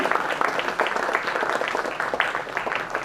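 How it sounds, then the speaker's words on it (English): A festival audience at a film retrospective screening gives a round of applause, a dense, steady patter of clapping lasting a few seconds at moderate loudness. "Can we have a huge round of applause for him?"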